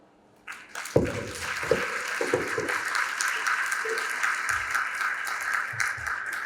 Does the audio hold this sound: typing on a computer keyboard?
no